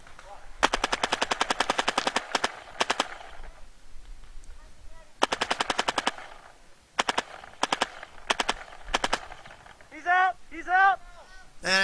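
A TPX paintball pistol fired during a woodsball game, heard as rapid bursts of sharp, close shots in several strings with short pauses between them. A voice briefly speaks near the end.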